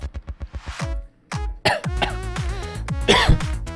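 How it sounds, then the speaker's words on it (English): A run of rapid, harsh coughs, one after another, then a brief pause and more hacking coughs with throat-clearing, loud and close. "I'm a big red silver snake, but I have the coughs"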